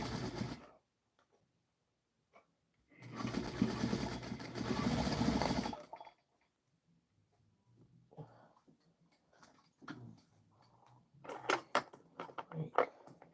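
A sewing machine stitches the front of a stuffed toy's head in one steady burst of about three seconds, followed by quiet clicks and small rattles of handling.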